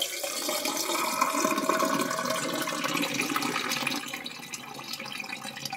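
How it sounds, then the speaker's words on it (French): Cold water pours steadily into a clogged bathroom sink as a continuous splashing, gurgling rush that eases slightly toward the end, close by with no talking. "Donc on va verser l'eau."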